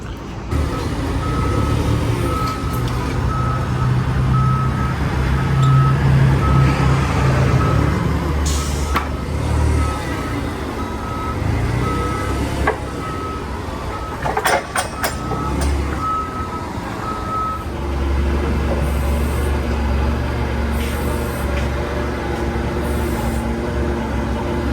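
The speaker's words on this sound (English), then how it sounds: "Let's drag it out of here with the forklift." A forklift drags a 1970 Ford F250 crew cab out of a shop, a steady loud mechanical rumble with intermittent reversing beeps, scattered clanks and metallic knocks partway through, and no speech.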